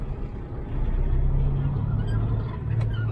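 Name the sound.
truck pulling away slowly in first gear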